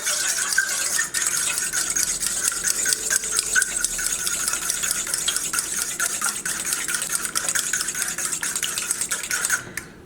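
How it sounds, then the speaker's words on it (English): Two medium eggs are beaten quickly with a fork in a bowl for pumpkin spice oatmeal muffins, giving a rapid, steady scraping and ticking rhythm that carries on close and fairly loud for about ten seconds. "I'm just using 2 medium eggs, and we're just going to beat this really quick with our fork"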